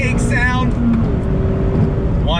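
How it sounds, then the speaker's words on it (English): Naturally aspirated engine of a 2020 Mazda MX-5 Miata Club, heard from inside the car as a loud, steady intake drone with a brief rev. A voice talks over the engine throughout. "Just the sound of that naturally aspirated engine."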